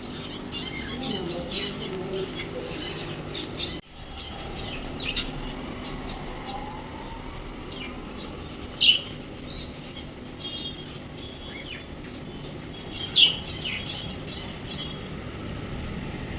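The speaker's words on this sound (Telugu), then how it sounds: "బర్డ్ సౌండ్‌కి వాడు చూడండి ఏం చేస్తాడో అసలు" Recorded bird chirps and tweets are played back to a pet turtle: scattered short, sharp calls with a few louder chirps standing out over a soft background hum.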